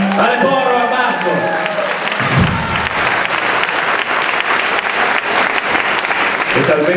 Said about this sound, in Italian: Date un applauso.